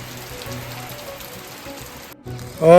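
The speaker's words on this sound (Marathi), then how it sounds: "तर मगाजपासून भरपूर पाऊस आत्ता आहे खूप प्रमाणात पाऊस इथं आपल्याला पाहायला मिळतोय" Heavy rain falling on the Udgiri plateau in the Chandoli sanctuary during the monsoon, a soft, steady patter with a brief dropout before a louder burst of sound at the end.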